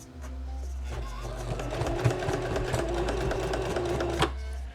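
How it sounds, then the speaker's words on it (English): A sewing machine whirs steadily with a rapid mechanical clatter as it stitches clothing labels into t-shirts, running continuously for a few seconds close up. "thank you for following along as I stitch the clothing labels into my 6050 tees"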